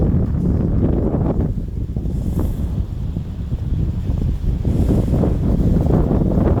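Gusty cold wind sweeps over a lakeside, a loud, churning low roar of microphone buffeting that swells and eases in waves, with no voices.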